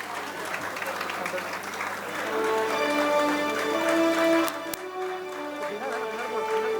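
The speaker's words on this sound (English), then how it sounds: "Please give them a huge round of applause." An audience applauds at an engineering institute's annual sports award ceremony, dense clapping that swells in the middle, with a sustained musical tone over it.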